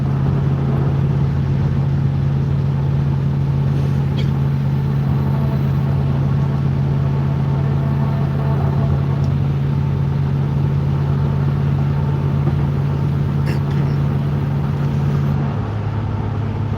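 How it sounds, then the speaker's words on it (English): A parts-delivery truck drones steadily at highway speed, a constant low engine and exhaust tone heard from inside the cab with no talk. "This truck is nothing but drone."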